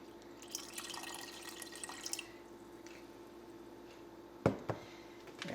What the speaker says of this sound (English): Here, I added about a cup more water.